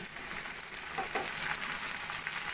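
Potato pieces fry with onions in hot oil for a brinjal curry, giving a steady, soft sizzle with faint stirring scrapes, close by and with no voices.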